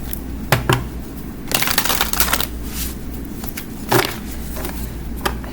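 A deck of Witch's Kitchen Oracle cards is shuffled in several quick, close papery bursts, with short pauses between the riffles and no voice over them.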